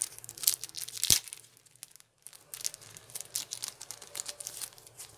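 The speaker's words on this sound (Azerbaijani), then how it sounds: "Keçək bu kart açımına." Foil wrapper of a 2018-2019 UEFA Champions League trading card pack being torn and crinkled open by hand, close and crisp, with a sharp rip near the first second, a short pause, then continued rustling.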